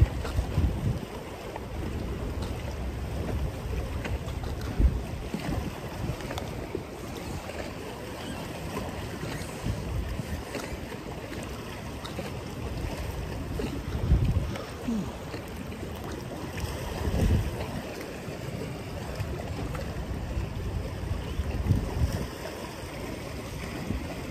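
Water laps and sloshes against a small boat at a fishing spot off Saipan, with gusts of wind and occasional louder splashes; no one speaks.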